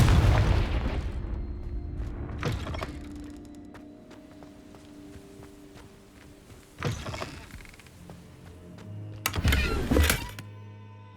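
Confringo fire-blast spells in Hogwarts Legacy, heard as three separate booming bursts spaced several seconds apart, the last one loudest, over a low game ambience hum.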